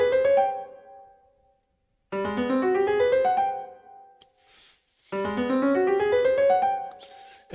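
Two ascending runs of clear, bright notes, each climbing step by step, separated by a short silence.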